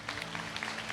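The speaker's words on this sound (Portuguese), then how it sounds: "Você pode aplaudir Jesus?" A church congregation claps together in steady, dense applause, a continuous patter of many hands at moderate volume with a low hum beneath, no voices standing out.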